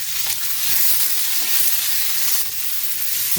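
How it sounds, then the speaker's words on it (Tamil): Green chilies, ginger and tamarind sauté in a hot pan for an appam dish, a loud, dense, continuous sizzle with stirring close up and no voices. "இது எல்லாத்தையும் சேர்த்து வதக்கிறணும் இது ரொம்ப வதக்கிடக்கூடாது லைட்டாக தான் வதக்கணும்"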